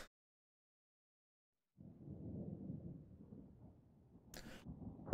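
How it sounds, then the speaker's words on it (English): Low rolling thunder rumble from the video game Persona 4, rising out of silence at mid-distance and continuing steadily, with a sharper burst of noise near the end. "hear thunder rumbling"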